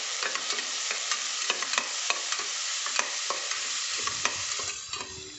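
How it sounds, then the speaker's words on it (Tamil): Ground tomato paste hits browned frying onions in a pan for banana flower biryani, crackling and hissing steadily with repeated sharp stirring scrapes throughout. "இப்போ இந்த அரைஞ்சி வச்ச தக்காளி போட்டுக்கலாம்"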